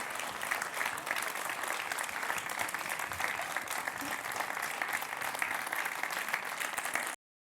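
Applause for the winners at a gala awards ceremony, a dense, even roar of many hands clapping in a large room, sustained at steady loudness before cutting off abruptly.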